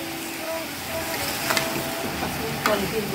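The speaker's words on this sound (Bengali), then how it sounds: "ডালটা ভালোভাবে মিক্স করে" Cooked dal being stirred into a simmering gourd (lau) curry in a pan. A soft steady sizzle continues throughout, with a few faint scraping clinks of the spoon against the pot.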